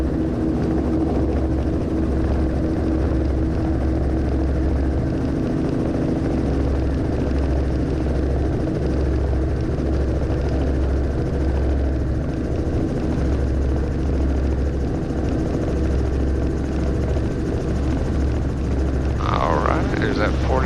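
A helicopter taking off near gross weight, its steady rotor roar and low engine drone filling the whole stretch, loud and close, without letup.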